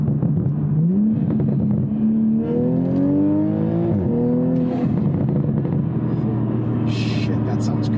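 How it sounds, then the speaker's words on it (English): A Toyota Supra with an aftermarket exhaust revs loudly up and down close by, its engine note rising and falling in pitch over a deep, rumbling idle, with a voice talking over it. "especially having an aftermarket exhaust, it sounds way, way better"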